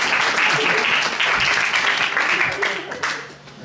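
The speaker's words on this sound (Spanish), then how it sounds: "Un aplauso para..." Audience applauding at a live stage show, a dense steady wash of clapping that thins and fades toward the end, with voices faintly mixed in.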